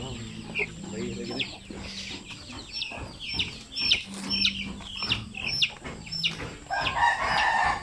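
Native Basilan and Zampen chickens and a young rooster cluck and chirp repeatedly nearby in a farmyard, with a busy overlapping mix of bird calls throughout.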